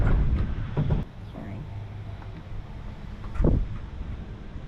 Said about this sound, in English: It is crazy windy out there